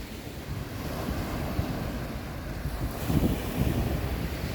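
Waves wash steadily at the water's edge on a hazy, hot day in Corsica, with rough wind buffeting the microphone in a continuous loud roar and a few swells rising near the end.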